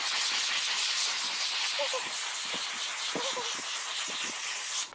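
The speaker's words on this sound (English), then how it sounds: "squeeze the steam" A steam cleaner blasts a steady, loud hiss of steam into a cleaning cloth, continuous for several seconds with faint clicks and rattles underneath, ending with a brief drop-off.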